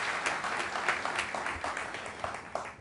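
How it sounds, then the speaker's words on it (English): An audience gives Herschel Walker a round of applause at an Army suicide prevention event, a dense crowd clapping heard at moderate distance that holds steady for a few seconds before easing off. "Please join me in a round of applause for Walker."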